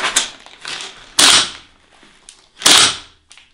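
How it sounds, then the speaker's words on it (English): Airsoft gun bolt snapping shut after the bolt release is pressed, sharp metallic clacks heard close and loud, with two prominent impacts and smaller clicks between, no talking. "I now press the bolt release here, the bolt closes."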